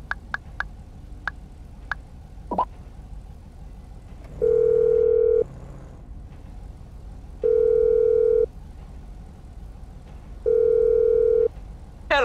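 Phone ringing tone in Grand Theft Auto V, three long, loud, steady pulses with even gaps between them, preceded by a few faint clicks and chirps.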